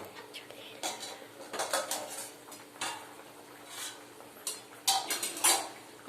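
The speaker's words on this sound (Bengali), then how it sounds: "চলুন একটু ঢেকে দিই" A lid goes onto a cooking pot of curry on a home stove, giving several light metallic clinks and clatters scattered over a few seconds amid faint kitchen background noise.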